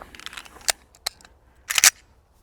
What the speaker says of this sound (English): I'll shoot a 5-round group